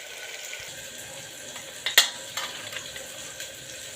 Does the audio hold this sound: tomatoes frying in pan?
yes